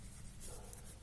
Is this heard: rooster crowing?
no